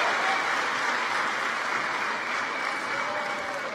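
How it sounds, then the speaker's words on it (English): A rally crowd at a former president's midterm campaign event breaks into loud, sustained applause, a dense steady wash of clapping with no talk over it. "Please give a round of applause."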